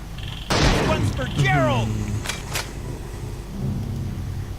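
Automatic gunfire in the zombie video game Trapped Dead: two loud bursts of shots ring out close together, with a voice talking over them.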